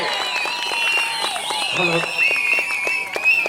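A crowd at a village Amman temple festival in Salaimaraikulam claps continuously and loudly, with tonal singing or ululating voices running over the clapping.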